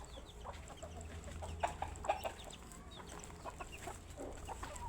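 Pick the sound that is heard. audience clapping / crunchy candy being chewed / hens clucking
hens clucking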